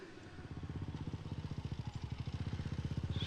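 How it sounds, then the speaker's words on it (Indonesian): A motorcycle engine approaches at night in an Indonesian village setting, its low rhythmic putter growing steadily louder and closer over a few seconds, heard alone without talk. "Suara motor siapa, Gun?"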